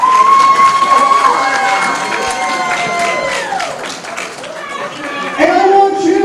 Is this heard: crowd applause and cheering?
yes